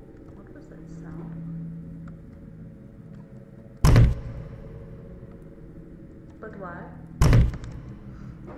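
A heavy door in a horror video game slams twice, each a sharp, loud thud about three seconds apart over quiet ambience, with a brief spoken voice in between.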